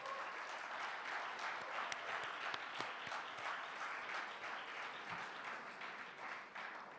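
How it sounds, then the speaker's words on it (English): An audience at the Jaipur Literature Festival claps to welcome a speaker onto the stage, sustained even applause from a large crowd heard alone throughout. "let's have a very big clap for her"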